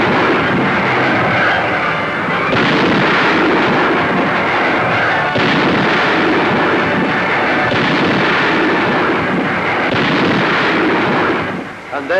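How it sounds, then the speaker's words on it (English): Heavy artillery barrage at Monte Cassino in 1944, a loud continuous roar of booming blasts with dense rumbling bursts, sustained for the whole stretch and fading briefly at the end. "And then, artillery."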